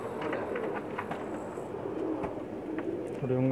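Pakistani pigeons cooing on a rooftop in Jeddah, Saudi Arabia, soft low coos close by over steady outdoor background noise, with a brief louder warbling call near the end.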